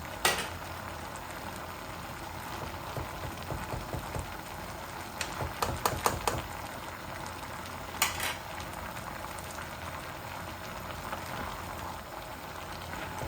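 Sweet-sour mango pickle with salt and tamarind simmers in a pot as the mango releases water, giving a steady bubbling hiss with a few louder pops and clinks from a spoon in the middle.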